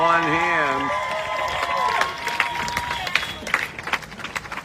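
A crowd gathered ahead of a championship team's arrival claps and cheers, with scattered applause building after a sustained tone at the start.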